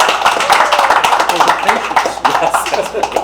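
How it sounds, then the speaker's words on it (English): Loud, close clapping from guests at an iftar party, a brisk continuous patter of many hands with voices mixed in. "A big round of applause for her,"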